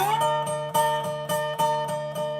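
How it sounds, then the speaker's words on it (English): A twangy slide guitar plays a repeated plucked pattern, notes pitched slightly sharp and sour, about six strums, no voices. "Now if we go a little bit too sharp, it sounds like this."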